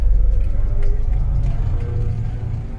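A 1979 Volga GAZ 24 backs up slowly, its engine giving a steady, close low rumble with a faint whir and no sharp revving.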